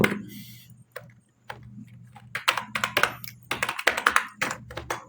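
Someone types an email address on a computer keyboard: rapid, uneven bursts of close, crisp key clicks with short pauses between them, set over a faint steady hum.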